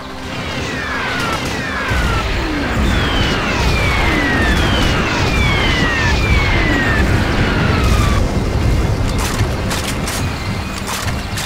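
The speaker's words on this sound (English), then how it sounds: "And artillery strike there." Artillery strike in the Doom mod VietDoom: several incoming shells whistle downward in pitch over a dense, continuous roar of loud booming explosions, with no talking.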